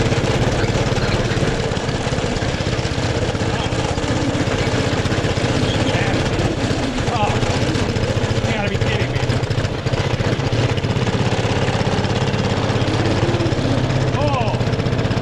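An old $20 go kart engine runs steadily with a rough, knocking, mower-like drone for the whole stretch, loud and close, while people talk over it.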